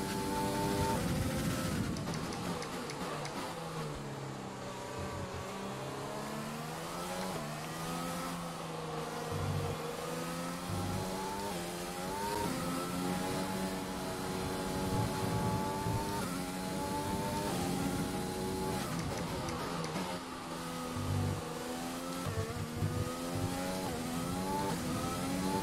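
A Formula 1 car engine in the F1 2020 video game screams continuously through a wet Australian Grand Prix race, revving up and down through gear changes with a steady rain-like hiss beneath, no talk.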